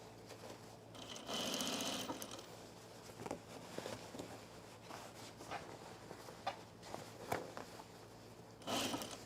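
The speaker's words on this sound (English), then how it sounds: "I'm a little worried I'm gonna stitch through something." Sewing machine stitching a seam on a skort near a pocket, running in bursts of fast whirring stitches with pauses between, close and steady, no talk.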